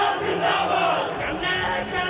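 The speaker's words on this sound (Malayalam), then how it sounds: "വലിയ ജനക്കൂട്ടമാണ് ഇവിടെ ഉള്ളത്." A large crowd fills the roadside at Attingal for V S Achuthanandan's funeral procession, a loud continuous roar of massed voices chanting and calling out slogans together, steady and close.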